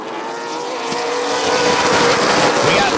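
Big 8 Series late model race cars roar past at Rockford Speedway during a spring heat race, a loud, dense engine howl that swells as the pack approaches, with faint tire noise.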